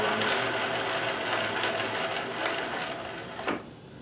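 A Singer 72W19 straight-stitch industrial sewing machine runs at speed, a fast continuous mechanical whir and rattle that eases and ends with a brief clunk.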